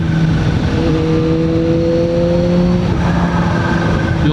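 A Kawasaki Z H2 motorcycle fitted with an aftermarket air filter cruises along, its engine giving a steady, loud drone with a rising tone under wind rush.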